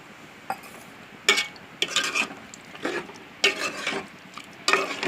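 Mutton curry is stirred in a pot after water goes in for the gravy, a ladle scraping and clinking in several bursts over a soft sizzle, close and clear with no talking.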